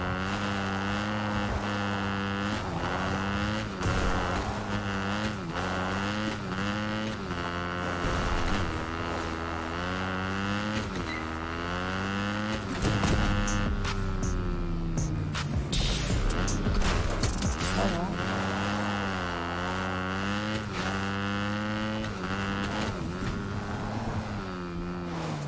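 A vehicle in the Apex Legends video game drones steadily with a continuous engine hum whose pitch rises and falls as it drives.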